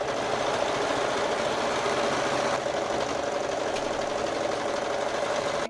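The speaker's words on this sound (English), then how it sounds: "Next thing I'm gonna do is sew along the opening of the sleeve." A sewing machine runs steadily for several seconds, stitching along the opening of a t-shirt sleeve, with a continuous close mechanical whir and a rapid needle rhythm and no talking.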